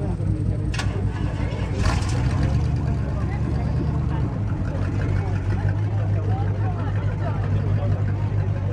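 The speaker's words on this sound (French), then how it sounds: "c'est vrai que c'est beau comme voiture, mais ça fait du bruit" A Renault 5 Alpine Turbo engine idles with a low, steady rumble, revving briefly near the start, while people talk nearby over the noise.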